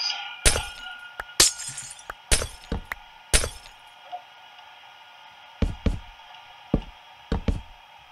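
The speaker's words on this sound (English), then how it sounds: "Yeah, I'll break the glass." Glass blocks breaking in the Minecraft video game, a series of sharp, bright shattering cracks in irregular bursts, some clustered close together, with pauses between and no talk.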